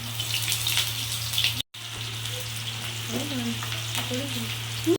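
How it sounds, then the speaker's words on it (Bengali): Onions fry in a generous amount of hot oil for a Bengali boneless Bombay duck (lote fish) jhuro. A dense, loud, continuous sizzle runs under a low steady hum, broken by one short silent gap. "তেলটা গরম হয়ে গেলে আমি পেঁয়াজগুলো এর মধ্যে দিয়ে ভালো করে ভেজে নিচ্ছি"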